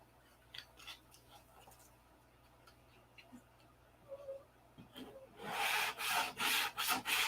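Quiet intermittent scraping strokes give way to a run of loud, rhythmic rasping sanding passes against a wooden P-47 model, close by.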